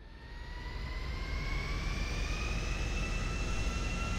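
An airplane in Grand Theft Auto V gives a steady jet engine roar that swells at the start and holds as a loud, continuous whine with a rising tone, heard without talking.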